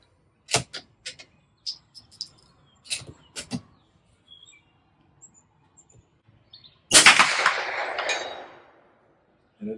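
Federal .22 LR high-velocity hollow-point rounds fire as several sharp, short cracks at irregular intervals, followed by a longer rushing burst of noise.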